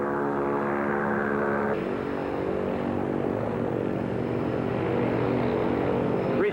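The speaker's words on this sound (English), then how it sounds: "Restarted the engine." The engine of a restored Northrop N9MB Flying Wing propeller aircraft runs on a 1994 test flight, a loud steady droning hum that shifts pitch slightly early on and then holds.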